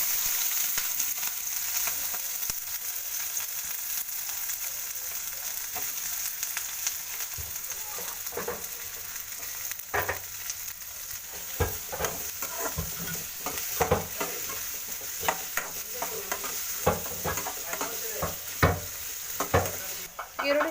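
Chopped onion and green chilli fry in hot oil in a pan for a Kannada keerai soppu saru, a loud steady sizzle with repeated spoon scrapes and stirring knocks growing busier toward the end, and no talking.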